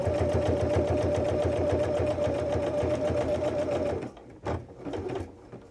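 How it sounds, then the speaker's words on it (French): A domestic sewing machine stitching a zigzag seam runs steadily with a loud, even whirring hum for about four seconds, then stops, followed by a few soft handling clicks and thumps. "je sais que mon zigzag, il va se faire là. Donc, je plante mon aiguille."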